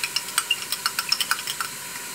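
Minced garlic frying in a pan gives a steady bright crackling sizzle with rapid small pops and spits throughout, close and continuous with no voices.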